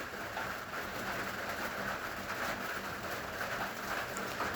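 Semolina fries in ghee in a pan, giving a steady, faint, even crackling hiss that holds without break.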